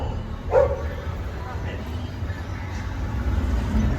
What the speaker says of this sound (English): What a bad dog.